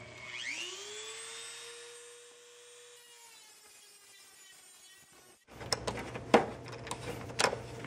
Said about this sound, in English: I'm using a reinforced cutting wheel on a Dremel just to do this